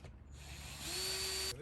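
A power drill whirs close by while drilling mounting holes to install a solar cover reel for an above-ground swimming pool, a short steady high-pitched spin that rises in pitch before stopping abruptly.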